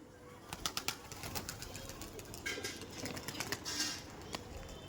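Madras pigeons released from a rooftop loft, a flurry of flapping wings and soft patter close by, bursts of wingbeats rising and fading over a few seconds without talk.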